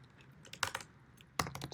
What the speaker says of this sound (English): so we'll start off by typing